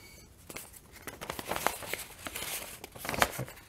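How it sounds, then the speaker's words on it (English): A regular sheet of notebook paper being handled and folded, giving soft crinkles and a few sharper crisp rustles, close and fairly quiet, with no talking. "Regular sheet of notebook paper."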